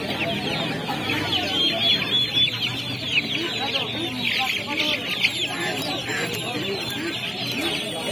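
Black Australorp chickens clucking at a crowded hen market, a dense chorus of overlapping clucks and squawks at moderate level with people talking throughout.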